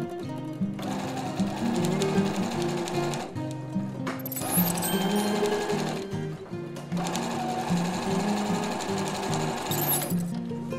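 A sewing machine stitching fabric with polyester thread runs in long steady whirring bursts with rapid needle clatter, pausing briefly between seams, loud and close with no talk.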